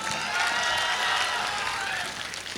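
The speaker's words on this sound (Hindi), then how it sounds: "इस पर तो ताली आनी चाहिए थी कि मैं मधुबनी भी गया" Audience applause at a live Urdu poetry recital, a dense steady patter of clapping hands that continues evenly for a couple of seconds.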